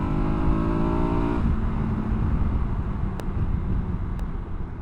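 A KTM 1290 Super Adventure S motorcycle engine pulls hard under acceleration, its rising harmonic drone loud and close with wind rush, then settling into a steadier roar after a shift.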